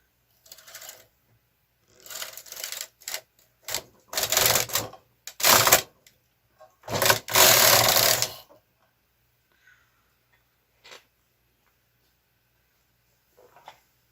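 A Brother KH 230 knitting machine carriage is pushed across the needle bed in several clattering, rattling passes of varying length, close by, separated by silences and a few faint clicks.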